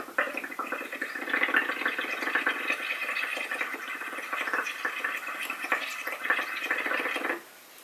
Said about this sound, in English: So you want to get a nice dome of bubbles.